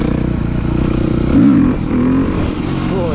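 A sport motorcycle passes by with a loud engine drone, its pitch rising and sweeping as it approaches and fades, while a small 50cc scooter engine hums steadily nearby.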